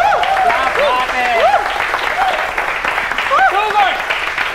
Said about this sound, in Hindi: 3 2 1 तालियां